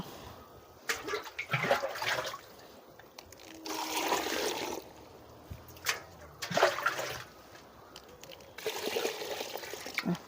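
Water is poured into a container while making homemade boron fertilizer, arriving in several separate splashing pours with pauses between them, fairly faint and close.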